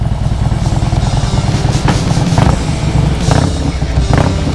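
A loud 1700 cc Harley-Davidson Heritage motorcycle engine rumbles continuously up close with a deep, throbbing idle and a few brief revs, accompanied by some clattery noise.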